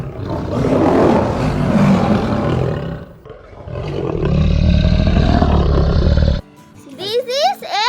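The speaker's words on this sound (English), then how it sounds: "This is a lion." A lion gives a loud, rough roar in two long bursts. A voice follows at the end.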